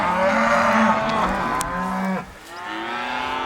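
Cattle on a farm bellowing after being sorted away from their calves in a corral, several loud, drawn-out moos overlapping close by, with a quieter stretch near the end.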